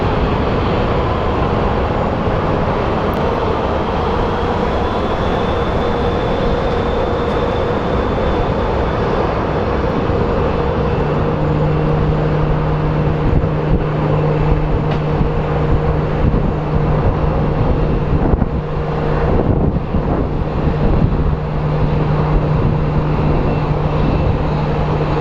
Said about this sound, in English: And we have our SkyWest coming in from LAX.